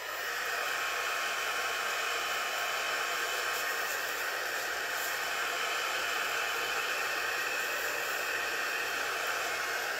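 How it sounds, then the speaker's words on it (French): A hair dryer runs steadily and close by for the whole stretch, a constant loud whoosh of blown air used to dry a watercolour card. "Mais pour être bien certaine, on va lui donner un petit tour de séchoir."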